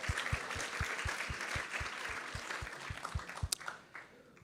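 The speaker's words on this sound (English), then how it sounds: "So let's give them a big round of applause." Applause from an audience at a devotional talk and Krishna Katha gathering, moderate in level and fairly distant, with steady clapping and a few sharper claps toward the end.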